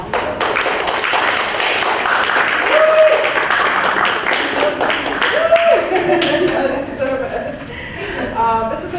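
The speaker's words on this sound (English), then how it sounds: "So let's give Professor Vitrano a round of applause." A lecture audience at a university book event claps in sustained, dense applause for a philosophy professor, with a voice briefly speaking over the clapping.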